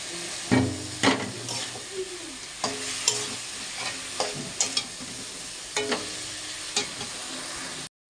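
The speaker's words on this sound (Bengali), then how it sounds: "ভাজা হয়ে গেলে তারপর কচুটা দেবো" Food fries and sizzles in a pan, with a steady hiss and repeated scraping strokes of a spatula stirring it, loud and close, with no talking.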